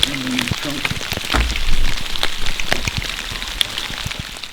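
Rain patters steadily on surfaces at a state park, dense close drops with scattered sharper ticks throughout, while a voice speaks briefly.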